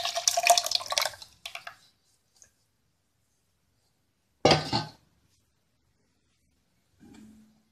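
Spiced crab curry liquid poured into a clay pot, a short splashing burst at the start and a second brief pour midway, with quiet gaps and a faint low clunk near the end.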